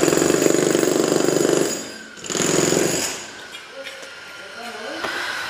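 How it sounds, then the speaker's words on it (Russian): A loud pounding hammer drill from neighbours' renovation work rattles in two long bursts from nearby, then falls quiet while a person talks over faint background noise. "Походу, сегодня у всех ремонтный день. Там что-то тоже долбят,"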